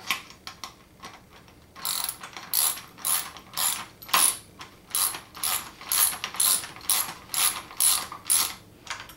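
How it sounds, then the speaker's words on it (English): A 1/2 inch wrench tightens a nut on a Gyrowheel 12-inch bike wheel, making a regular series of crisp ratcheting clicks, about a dozen evenly spaced, close and fairly quiet, with no talk. "And then use a wrench. You want a 1/2 inch wrench."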